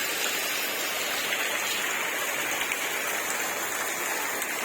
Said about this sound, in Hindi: और ये यहाँ पे दोबारा बारिश स्टार्ट हो गई है।